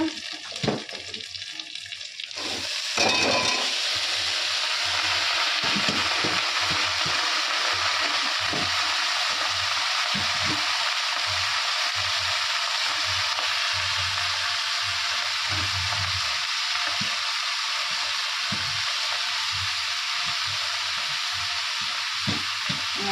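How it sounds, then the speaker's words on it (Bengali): Onions fry in an oil-filled pan in a home kitchen. After a brief start, a loud, continuous hissing sizzle runs near and steady for about twenty seconds. "তো পেঁয়াজটা ভাজা ভাজা হয়ে যাক"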